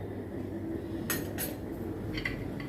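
A metal lid is set onto a cooking pot of nendrappazham pulisheri, two or three clanking clinks that ring briefly against steady kitchen background noise.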